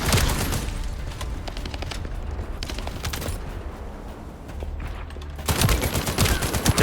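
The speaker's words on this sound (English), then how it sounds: "I don't think we stopped shooting our gun for barely a few seconds." Near-continuous gunfire from the shooter game The First Descendant, dense rapid bursts of automatic fire with a brief lull before a louder volley resumes at the end.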